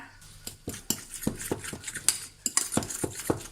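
A utensil scrapes and taps against a bowl in irregular strokes, stirring mashed avocado up close with no voices.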